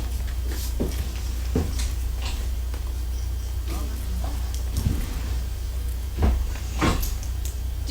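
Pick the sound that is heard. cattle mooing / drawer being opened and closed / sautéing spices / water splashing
drawer being opened and closed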